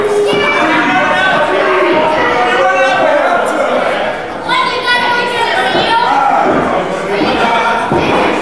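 A wrestling crowd jeers and razzes a wrestler named Taylor, with dense shouting, whistles and chatter surging in waves throughout, loud and close with no single voice standing out.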